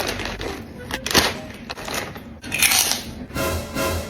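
Crunchy spicy fried squid snack being bitten and chewed up close, a few sharp crunches amid rustling, with people talking around it.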